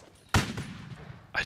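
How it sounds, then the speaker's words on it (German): Gunfire in the World War II shooter Easy Red: one loud, sharp shot followed by a fainter second burst about a second later, with some talk mixed in. "irgendwo von rechts werde ich auch beschossen."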